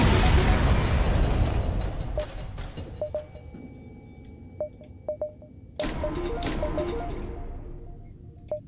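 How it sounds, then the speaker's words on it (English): An enemy ship exploding in FTL opens with a heavy rumbling blast that slowly fades, then a second loud burst follows, all surrounded by short electronic beeps and blips. "Just make them go kaboom."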